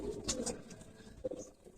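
A blue bar racing pigeon coos softly nearby, a few short throaty calls in quick succession against faint background noise.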